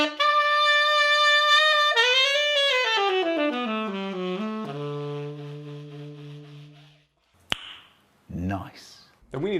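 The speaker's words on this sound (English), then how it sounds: "tone production on the saxophone" A sustained saxophone note held for several seconds, bending slightly and then settling into a lower steady tone that fades out, followed by a brief pause and then a person starting to talk.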